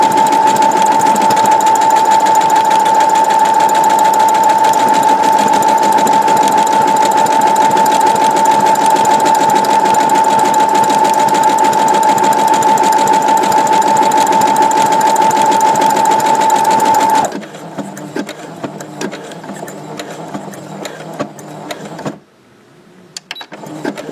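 A sewing machine runs on its own, sewing a buttonhole with a loud, steady mechanical hum and whir for about seventeen seconds before it stops, followed by quieter handling sounds.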